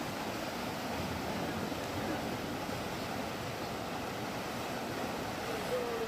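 Rushing floodwater pours along the main roads of Bakodi village in Dwarka after a downpour, a constant loud broadband roar with no pauses.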